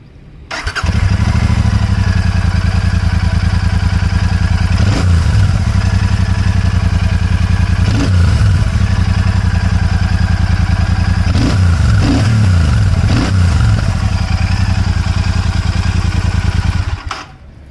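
A Royal Enfield Meteor 650 motorcycle with a 650 cc engine starts and settles into a steady, loud idle close by, with a few brief revs rising and falling midway.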